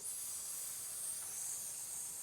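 A voice imitates a snake's hiss for the letter S, a steady breathy hiss held for about two seconds with no words, used in a children's reading lesson.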